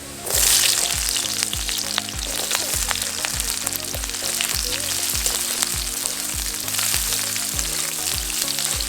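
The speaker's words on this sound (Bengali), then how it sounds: "রসুন বাদামি হয়ে ভাজা হয়ে গেছে, দিয়ে দেব পেঁয়াজ কুচি" Chopped onion dropped onto browned garlic in a hot pan, a loud continuous close sizzle with rhythmic spatula scrapes repeating throughout.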